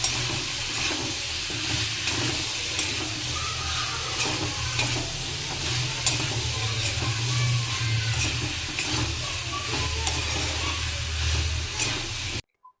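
Vegetables sizzle steadily in spices in a hot pan while a spoon stirs and scrapes through them, a continuous close crackling hiss with occasional clanks.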